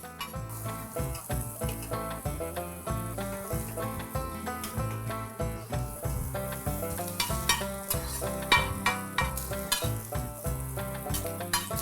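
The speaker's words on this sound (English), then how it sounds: "So we'll just fry the Karela as well in the butter." Sliced bitter gourd (karela) fries in butter in a pan while something is stirred, with sizzling and scraping heard amid a busy, rhythmic layer that sounds like music playing over it.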